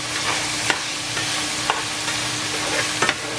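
Steady crackling sizzle of beef liver frying in a pot, with a few faint clicks of stirring scattered through the continuous hiss.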